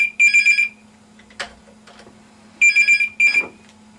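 An old-style telephone bell rings in two loud double bursts with a quiet gap between them, and a faint steady hum runs underneath.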